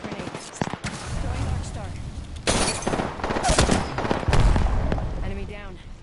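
Video game gunfire crackles in rapid bursts and volleys, loud and close, with sharp heavier shots standing out, while players talk over the shooting.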